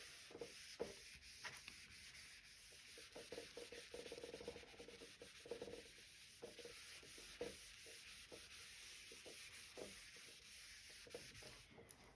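Steady rubbing of paper on a topo sheet, a soft close scratching with irregular strokes and small taps throughout, quiet and without talk.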